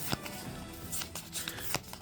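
A deck of game cards is shuffled at a tabletop board game, brief papery riffles and soft snaps close by, with no talk.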